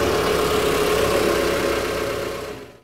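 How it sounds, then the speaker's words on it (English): Steady, loud traffic engine rumble that holds evenly and then fades out at the end. "I hear the traffic."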